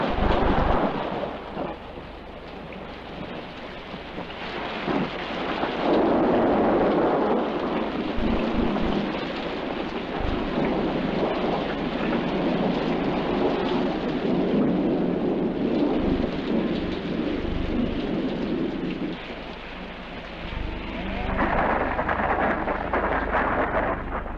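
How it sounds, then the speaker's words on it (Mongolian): Thunder rolls over open Mongolian countryside ahead of rain, a sustained low rumble and wash of storm noise that swells and holds loud for most of the stretch, with no talk. "Тэнгэр хаяалаа бороо намтах шиг байна."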